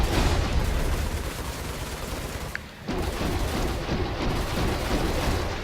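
Guns on the Origin Jumpworks 300i touring ship firing in a space video game, a dense, loud, continuous barrage with one brief dip near the middle before the fire resumes at full intensity.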